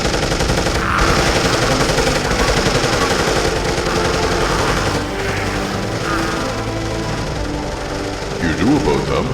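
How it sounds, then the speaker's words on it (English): Rapid machine gun fire rattles continuously in a dramatized Victorian undead comic adventure, loud and dense, with voices shouting over the barrage. "Open fire!"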